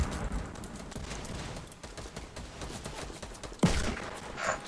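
Fortnite gunfire sounds as a fast burst of sharp, moderately close shots with a louder crack near the end, from a Portuguese-speaking group's match.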